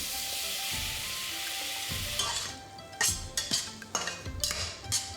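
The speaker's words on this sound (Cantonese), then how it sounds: "再落番茄拌炒" Chopped tomatoes stir-fried in a hot pan over a medium flame, a dense sizzle at first, then rhythmic scraping and clanking of a spatula against metal over a lighter sizzle.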